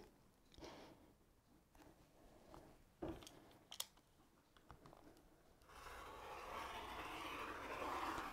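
Rotary cutter slicing through six stacked layers of quilting fabric on a cutting mat, a soft scraping rasp building into a steadier, louder grinding drag toward the end, with a few sharp clicks along the way.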